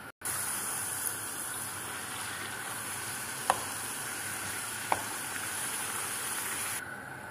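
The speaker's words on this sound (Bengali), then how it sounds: "এভাবে আমি সবগুলা ভেজে উঠিয়ে নিব" Food fries in a pan with a constant, even sizzle and hiss. Two faint ticks break it partway through, and the sound cuts off abruptly near the end. No one speaks.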